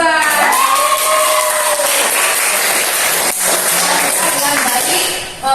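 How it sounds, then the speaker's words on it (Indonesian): A classroom of students applauding group 2, loud sustained clapping mixed with cheers and children's shouts, filling the room for several seconds before tapering off at the end. "Kita semua harus aplaus untuk"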